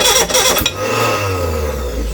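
The engine of a Reliant Regal Supervan 3 with its timing out cranks, catches briefly and settles into a rough low chug before fading, heard loud and close.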